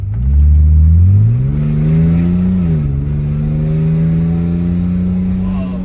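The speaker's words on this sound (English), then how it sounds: "I just want to hear that exhaust side." Exhaust of a 1985 Mercedes-Benz W123 280E automatic accelerating on the road, a loud deep drone that climbs in pitch, dips briefly at a gear change, then holds steady.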